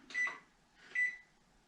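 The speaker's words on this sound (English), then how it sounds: "And we're going to set our timer" Two electronic beeps from an oven timer being set, about a second apart, clear and close with quiet between them.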